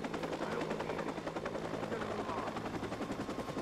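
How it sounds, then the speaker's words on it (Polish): A helicopter in the video game Watch Dogs thuds steadily with rapid rotor pulses, loud and continuous over a rumbling backdrop for a few seconds. "Helikopter, helikopter."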